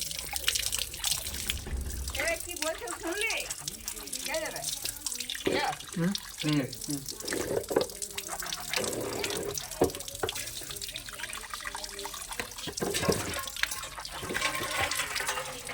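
Running tap water splashes as someone washes their face at a sink, with a steady close rush and irregular splashes and drips throughout.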